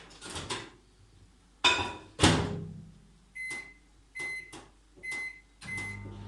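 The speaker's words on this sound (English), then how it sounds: "melt it down for 1 minute in the microwave" A microwave oven door thuds shut a few times, followed by a series of short electronic beeps from keypad presses, spaced apart with quiet between, as butter is set to melt.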